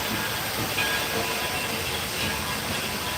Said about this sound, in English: See that train?